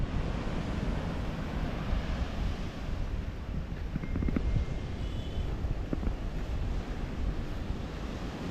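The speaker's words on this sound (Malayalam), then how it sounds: "ഇവിടെയും അത്യാവശ്യം കടൽ നല്ലപോലെ തന്നെ കയറിയിട്ടുണ്ട്" Sea waves roll in at Vadanappally beach during a sea surge, a continuous roar of surf mixed with wind buffeting the microphone, with a few louder crashes.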